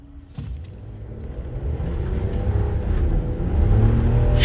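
A 2025 RAM truck with the 3.0L Hurricane twin-turbo inline-six and an 8-speed transmission pulls away under hard acceleration, its engine note rising steadily and growing louder, heard from inside the cab.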